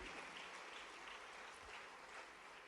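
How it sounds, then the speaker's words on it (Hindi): An audience at a youth festival event in Bhopal applauds, a dense, even wash of many hands clapping at a distance, fairly faint and sustained throughout. "जोरदार तालियों से आइए अभिनंदन करें दीपांशी वाजपेयी जी का।"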